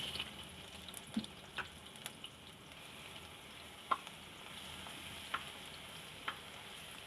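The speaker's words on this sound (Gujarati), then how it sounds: "તો તેલ આપણું ગરમ થઈ ગયું છે। તો એમાં પહેલાં આપણે લસણ નાખી દેવું।" Garlic fries in hot oil for a Schezwan chutney, a faint, even crackle with a few sharper pops and clicks scattered through it and no talking.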